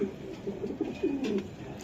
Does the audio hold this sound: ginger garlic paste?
no